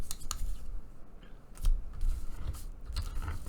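A card panel is cut out by hand for a handmade infinity card, with a series of short, crisp snips and clicks spread irregularly between quiet moments, heard up close.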